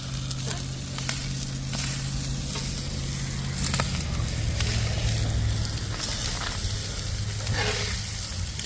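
Chopped meat and cheese sizzle loudly on a flat griddle for a chopped cheese sandwich, with a steady hiss, a low hum, and repeated metal spatula scrapes and taps as it is stirred.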